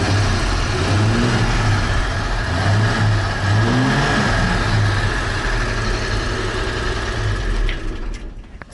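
A Chevrolet C-10 pickup engine being revved, rising and falling in several throttle blips over a running idle, close and loud, fading out at the end.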